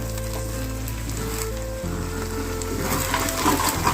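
Sabudana khichdi sizzles steadily as it is stirred in a pan over low gas, with a continuous close frying hiss and a few soft scraping shifts, no voices present.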